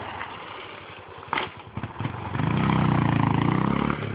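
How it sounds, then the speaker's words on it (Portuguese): A Yamaha WR trail motorcycle revs nearby. Scattered knocks and rustles come first, then the engine rises into a steady, loud, rough drone lasting over a second before it cuts off. "E fica moendo essa moto."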